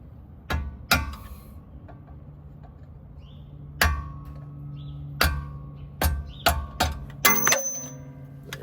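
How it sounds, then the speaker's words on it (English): Hammer tapping a ball joint bolt out of a 2014 Nissan Altima 2.5 S control arm: a series of sharp metallic clangs in irregular bursts, with two early strikes, a pause, then several quick hits close together. "tap a little bit and you'll get that ball joint bolt out of there"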